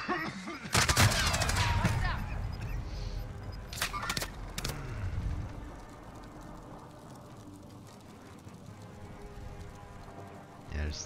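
Gunfire in the Warzone video game sounds as loud bursts of rapid shots up close, then fainter scattered shots as the firing fades, with voices talking over it.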